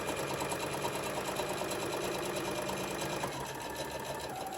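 A sewing machine runs a continuous seam on a book pillow, its steady, close whirring hum holding for several seconds before easing slightly at the end.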